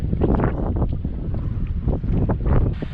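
Strong wind buffets the microphone while swirling around a point on open water beside a small boat, a loud, continuous gusty roar with rising and falling surges and no voices.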